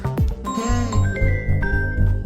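A phone ringtone plays a repeating electronic melody of bright tones over a pulsing low beat, close and clear.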